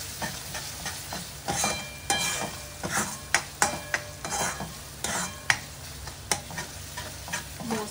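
Pav bhaji vegetables and masala cooking in a pan, with a steady low sizzle under repeated scraping strokes of a spoon stirring at close range, no voices.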